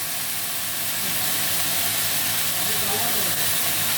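Bathua greens cook in a pan with ghee, giving a dense, even hiss of sizzling that holds steady at close range throughout.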